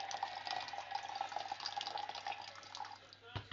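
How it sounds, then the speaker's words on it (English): Water trickles slowly into a cup for making coffee, a faint, thin pouring stream with small fluttering splashes, steady and close, ending with a brief knock. "And just pour it in nice and slowly."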